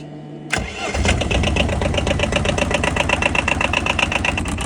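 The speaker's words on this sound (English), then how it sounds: "these run a twin-cylinder diesel engine. They're kind of noisy." A twin-cylinder diesel engine cranks briefly after a glow plug cycle, catches, and settles into a loud, steady, rhythmic idle with a chugging knock, close by.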